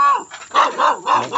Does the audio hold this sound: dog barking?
yes